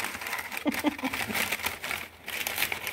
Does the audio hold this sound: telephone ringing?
no